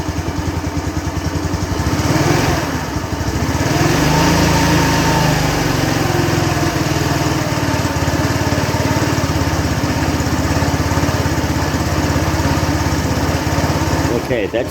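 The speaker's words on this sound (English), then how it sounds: "My bike's not doing so great running, so I'm going to rev it a little bit." A scooter engine running close by with steady buzzy idling and a rise in pitch as it revs, continuous throughout with a voice talking over it.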